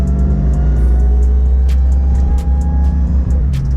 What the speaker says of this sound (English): I love the way that supercharger wind up. Definitely winds up